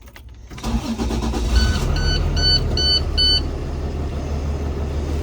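A school bus engine cranks and catches close by, then settles into a steady mid-pitched running rumble while a series of repeated electronic dash beeps chime over it.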